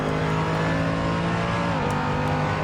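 Car engine in a racing video game, droning steadily and loudly at sustained revs with a slight pitch shift as the car drives on.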